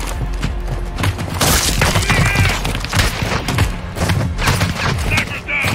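Sniper rifle fire in a first-person shooter game mission: sharp, loud gunshots and impacts crack repeatedly over constant battle noise, with voices talking throughout.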